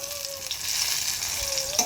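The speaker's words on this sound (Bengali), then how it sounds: "এখানে বেগুন ভাজা হচ্ছে" Eggplant slices sizzle as they fry in a pan, a steady crackling hiss heard up close for a couple of seconds, with a faint tone running underneath.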